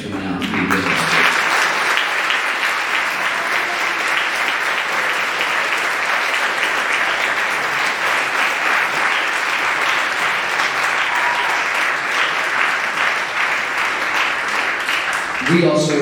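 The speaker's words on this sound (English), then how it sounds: "would you join me in a nice round of applause for your folks for coming out and being with us?" At a school symphonic band fall concert, the audience gives a long, sustained round of applause for the students' parents, loud and even throughout, with a voice briefly audible at the start and end.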